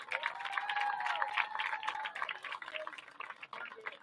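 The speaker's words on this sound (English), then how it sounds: "please give a round of applause for our 2025 Symmes Valley High School homecoming court" Clapping from a crowd at a high school football homecoming rolls on at moderate volume, heard from some distance outdoors, with scattered cheers and shouts mixed in.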